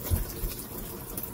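Water is poured over a small dog's head during a bath, a soft running, splashing gush that is faint and steady for a moment.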